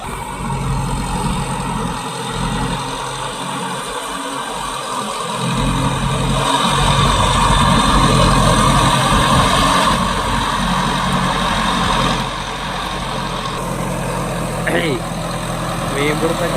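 A tractor engine runs steadily in a wet paddy field while fish are caught behind it, a loud continuous low drone with rising and falling revs and wind-like noise.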